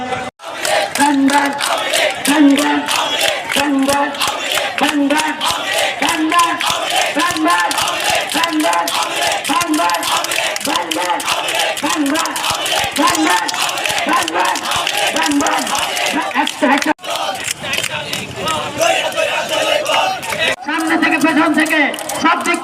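Protesters at Shahbag in Dhaka chant slogans in a loud, steady call-and-response rhythm, the massed voices repeating in regular beats with crowd noise throughout and a brief lull near the end.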